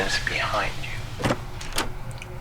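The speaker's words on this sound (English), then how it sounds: "A door opens behind you." In a radio play, a door opens behind the listener: a creaking, sweeping sound followed by a few soft thumps and clicks against a faint hiss.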